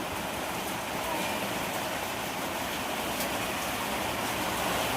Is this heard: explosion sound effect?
no